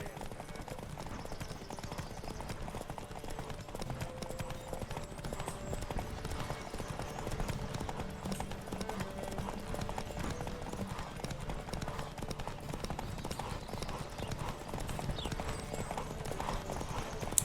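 Horse hooves galloping in a Witcher 3 horse race, a fast, steady clip-clop rhythm throughout at moderate level, with game voices and shouts breaking in over the hoofbeats.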